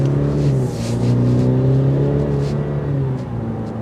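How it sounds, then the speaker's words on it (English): Cadillac CT5 with a twin-scroll twin-turbo V6 in sport mode, revving loudly and close by with a throaty, steady engine drone that swells and eases slightly, no talking over it. "That way you can see this twin scroll turbo."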